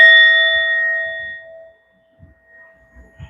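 A single bell struck once during a tarot session, its clear ringing tone sustained and slowly fading over about a second and a half, followed by a few faint soft knocks.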